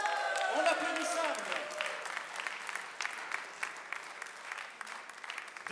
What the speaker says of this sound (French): On applaudit ça.